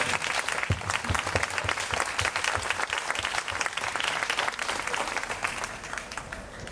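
A crowd at an Independence ceremony applauds the veterans in the room, a dense, loud wash of clapping that stays steady throughout.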